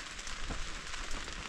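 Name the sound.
light rain on tarp at wilderness campsite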